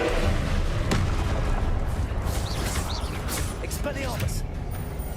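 Repeated Confringo spell explosions in Hogwarts Legacy, several booming bursts with sharp cracks amid a constant low roar of combat, with faint whooshing effects layered between the blasts.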